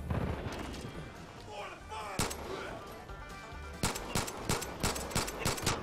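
Shotgun gunfire in the Far Cry 5 game, booming shots scattered through dense game sound, with a clear single blast midway and a quick series of sharp reports toward the end, heard under a player's talk.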